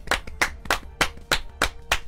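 Steady rhythmic hand clapping, about three claps per second, close and loud with no voices.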